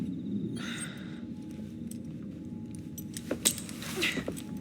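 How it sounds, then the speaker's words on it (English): Keys are handed over in Assassin's Creed Syndicate, a few faint metallic jangles and clinks over a low background hum, with a brief louder cluster of rattles near the end. "Now hand over your keys."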